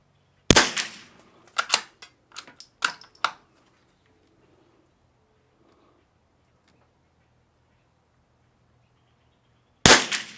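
A bolt-action .22 rimfire rifle, a Lithgow LA101 or CZ 455 firing Eley Tenex, cracks out two sharp, loud shots roughly nine seconds apart, with a cluster of quieter mechanical clicks and clacks of the bolt being cycled between them.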